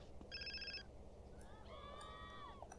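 Telephone ringing in the video game GTA San Andreas, a short electronic ring burst followed by a warbling, descending tone, faint over low background noise.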